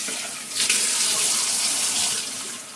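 Water running steadily from a kitchen tap while frozen fish is washed, a loud continuous hiss and splash close by that swells slightly after the start and holds throughout, with no talking.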